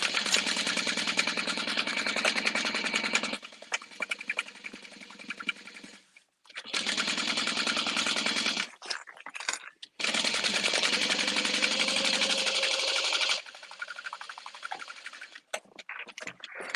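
A sewing machine winds a bobbin in several bursts of high whirring motor noise that start and stop across the clip, with quieter pauses and faint handling sounds between runs.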